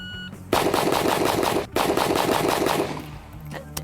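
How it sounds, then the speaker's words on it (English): An Arsenal 107 rifle fired in a rapid string of loud, close shots in two bursts separated by a brief pause, then fading out, with no speech. "now we are firing the Arsenal 107"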